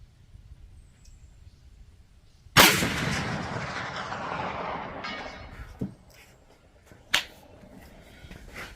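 A .450 Bushmaster rifle fires one loud, sharp shot at an outdoor range. A long rolling echo decays over several seconds, followed by two fainter distant cracks.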